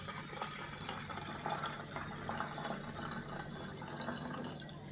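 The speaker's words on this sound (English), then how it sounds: "and then just pour it in the bottle" Homemade pineapple juice is poured into a bottle, a faint, steady trickle with soft dripping and gurgling textures that carries on without a break and has no talking over it.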